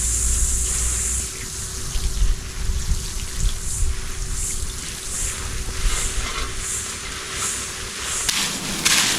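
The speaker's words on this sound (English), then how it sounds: "we're just going to water the vanilla plant with this all over and onto the soil as well." Water pours from a 9-litre watering can over a vanilla plant and onto its soil, a loud, continuous splashing and trickling wash that runs steadily for several seconds without speech.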